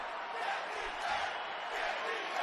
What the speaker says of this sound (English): And the crowd are chanting,